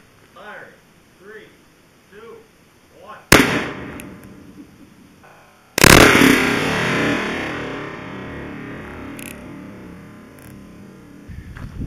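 A small cannon fires two sharp, loud blasts a few seconds apart, each a sudden broadband crack, the second followed by a long rumbling decay; faint voices precede them.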